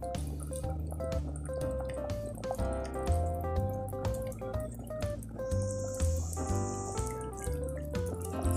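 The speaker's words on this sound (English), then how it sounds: "I'm gonna allow it to boil." A pot of Jamaican-style beef soup comes to the boil, giving off steady small bubbling and drip-like pops at close range over a faint tonal background.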